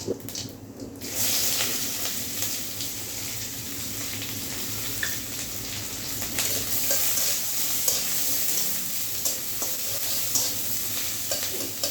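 Chopped onions with whole cumin and chilli stirred and fried in a pan, a continuous hiss of sizzling oil with soft scraping and occasional clinks of the spoon, close and steady throughout.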